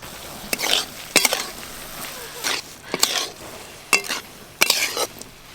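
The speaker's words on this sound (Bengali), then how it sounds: "এইভাবে নেড়ে নেড়ে পুরো চিনির সিরাপটা আমি শুকনো করে নেব" Sugar syrup for homemade tutti frutti being stirred with a metal spatula in a pan until dry, giving intermittent scraping strokes and light sizzling bursts at an uneven rhythm, close and moderately loud.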